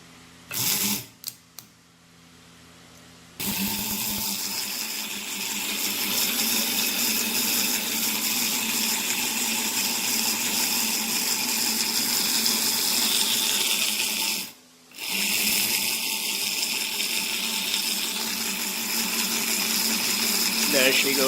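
After a few clicks and a brief pause, an electric motor powered by a low drill battery hums steadily and slowly raising an industrial mini-desk, briefly stops, then resumes its low whirring drone.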